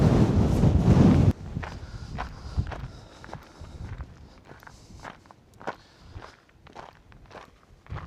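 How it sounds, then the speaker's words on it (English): Footsteps crunch steadily over gravel on the Malvern Hills, a regular walking rhythm close by, after a brief burst of loud wind buffeting at the start. "That crunchy gravel sound."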